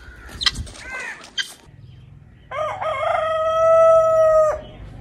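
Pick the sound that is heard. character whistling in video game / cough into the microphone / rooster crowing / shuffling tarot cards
rooster crowing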